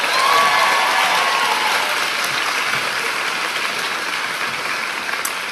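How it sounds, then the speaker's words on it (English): Broad, even applause from a commencement ceremony audience rolls on steadily, fairly loud at first and easing slightly toward the end, with a brief faint whistle near the start. "Now you can clap one more time."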